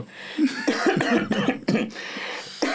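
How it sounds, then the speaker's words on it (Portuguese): Someone nearby coughs repeatedly in a harsh fit, several rough bursts in quick succession with brief gaps between them. "Meu colega está a tossir."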